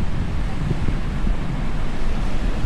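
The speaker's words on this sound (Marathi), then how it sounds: "तर आलो आहेत आपण बीचपाशी आणि वारा पण भरपूर सुटला आहे." Strong wind buffets the microphone at Agonda Beach in Goa, with waves and surf rolling underneath as a steady, loud, low roar that never lets up.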